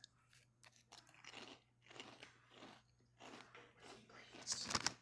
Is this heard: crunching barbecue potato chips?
yes